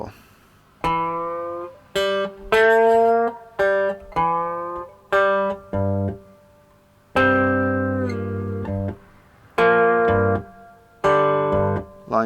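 A three-string slide guitar played with string muting, clear plucked notes and sliding chords ringing out in short phrases separated by sharp silences, close and alone without talking.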